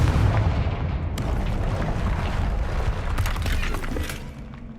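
A Confringo blasting spell bursts against a barrier in Hogwarts Legacy, a loud close explosive crack with shattering debris followed by rumbling booms and further sharp impacts that gradually fade.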